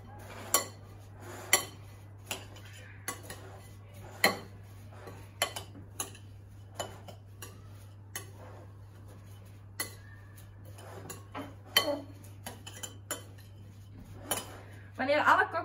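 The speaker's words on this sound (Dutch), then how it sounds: "We gebruiken gewoon een traditionele soeplepel om alles even doorheen te roeren." A traditional soup spoon scrapes and clinks against a bowl while coconut flakes are stirred, giving irregular sharp taps close by over a steady low hum.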